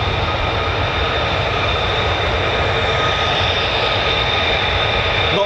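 A military jet, an F-15 or F-35 of the US Air Force, taxis across the runway at RAF Lakenheath, giving a loud, steady, broadband engine roar and whine that holds constant throughout with no talking.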